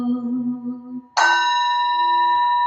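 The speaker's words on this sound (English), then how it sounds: "for the sound of the bell" A single clear bell strike rings out during a Zen Buddhist temple service after a brief low tone, its bright shimmering tone sustaining and slowly decaying.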